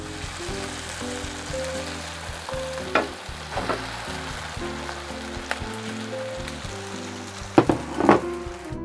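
White rice being fried in a pan with shrimp-paste sambal and garlic for nasi goreng with petai, a steady loud sizzle with occasional scraping stirs and clinks, no voices.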